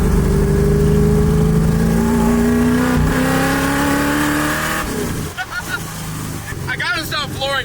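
1965 Ford Mustang engine revving hard under acceleration, a loud close roar rising steadily in pitch before the throttle eases, then rougher engine sound with a voice talking over it.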